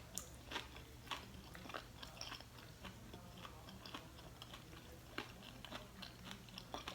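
Crisp crunching bites into a deep-fried catfish fillet, repeated irregular crunches close up at low level against a steady low hum, with no talking.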